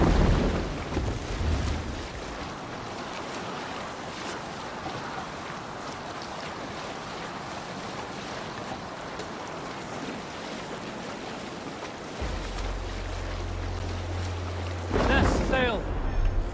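A Viking longship under sail at sea in Assassin's Creed Valhalla carries steady surf, rushing water against the hull and gusting wind throughout, with a deep rumble swelling near the end and brief voices over it.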